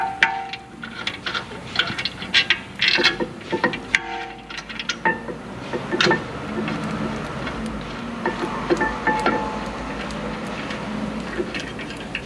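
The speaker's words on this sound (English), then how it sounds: "Now we're gonna snug the bolts." A ratchet snugs the caliper bolts on a 2022 BMW X5 40i during a front brake pad and rotor job: quick bursts of close clicking, faint and uneven, with metallic knocks between them and no talk.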